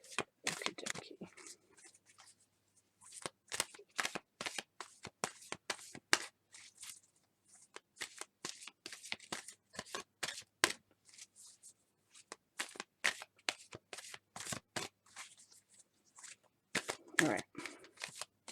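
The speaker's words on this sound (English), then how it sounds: "I'm just going to shuffle a little bit in front of the camera now." A deck of tarot cards is shuffled by hand close up, giving quick bursts of papery riffles and slaps in an irregular rhythm, with short quiet gaps between runs.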